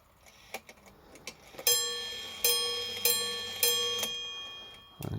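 A Badische striking alarm clock chimes the hour: four clear, ringing bell strikes spaced under a second apart over soft, steady ticking, close and alone.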